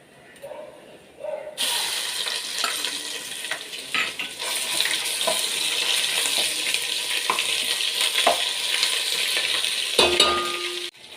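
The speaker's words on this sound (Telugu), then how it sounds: "ఇంగువ ఇలా చిట్టుపట్లు అయిపోయిన తర్వాత అల్లం వెల్లుల్లి పేస్ట్ వేసేస్తున్నానండి" After a quiet start, ginger garlic paste drops into hot oil with asafoetida and bursts into a loud, sustained sizzle and spatter that holds steady, close by, with occasional stirring knocks.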